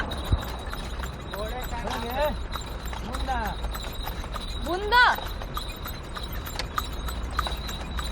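A horse pulling a tonga cart clip-clops along a road in India, steady hoof beats under people talking, with traffic hum and occasional vehicle noise around.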